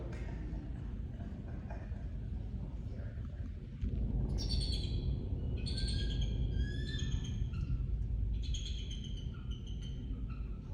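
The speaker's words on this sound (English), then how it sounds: "that's a bald eagle giving out a warning call to another bald eagle" A bald eagle gives a warning call to another eagle: several bursts of high, thin, chittering whistles at moderate distance over a steady low background hum, with no speech.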